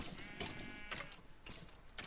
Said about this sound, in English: I don't know why the sheep are all down here.